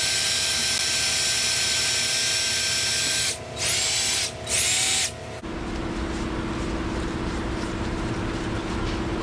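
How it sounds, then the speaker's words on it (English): A drill-driven flap wheel sander polishing rust whines steadily, briefly cuts out twice, then shifts to a lower, rougher grinding drone as it works against metal. "this little flap wheel sander that is attached to my drill"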